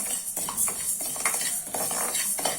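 Rice roasts in a dry pan for a traditional sweet laddu while a utensil stirs and scrapes it in short repeated strokes, close and moderately quiet over a faint steady hiss.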